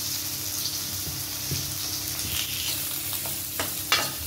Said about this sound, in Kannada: ಈರುಳ್ಳಿ ಥರ ಫ್ರೈ ಮಾಡ್ಕೋಣ ಇವಾಗ.